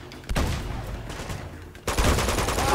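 Enemy gunfire in Uncharted 2: Among Thieves, a sudden loud burst of shots followed by sustained rattling fire, then a second heavy volley that continues to the end.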